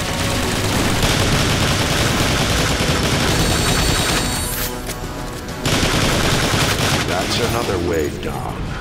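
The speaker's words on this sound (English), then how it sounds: "I'm getting shot to pieces here!" Dense, continuous gunfire and explosive impacts pound a robot in the Transformers: War for Cybertron game, loud and close throughout with a brief dip midway before the barrage resumes.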